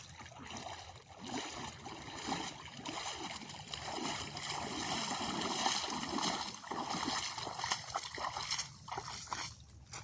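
Continuous water sloshing and splashing close by during a cold open-water swim in misty water, a steady churning wash filling the whole stretch without talk.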